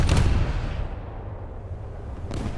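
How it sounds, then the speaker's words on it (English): A ship's ready rack detonating in a naval video game featuring Russian cruisers: a loud, booming blast at the start that settles into a sustained rumbling roar, with a second burst of noise near the end. "And there goes one ready rack."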